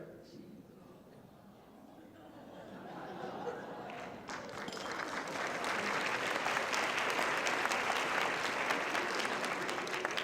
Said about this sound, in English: oh sure, applaud